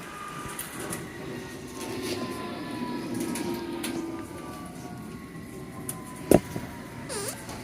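A London Underground Circle line train runs through the tunnel, a steady rumbling roar with rising motor whine, a sharp metallic clank near the end, and brief squeals.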